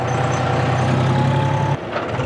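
A John Deere 4WD tractor with a rotavator attached rumbles along in 4th gear, its loud low engine drone steady and close before dropping off abruptly near the end.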